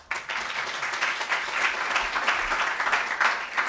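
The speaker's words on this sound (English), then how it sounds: "I'd like you to give a big round of applause to Carl." A group audience breaks into a big round of applause, a dense, even wash of clapping that swells and holds at steady volume.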